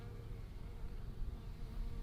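Honey bees swarm over a hive frame holding honeycomb, a dense continuous buzzing drone that stays close and steady throughout.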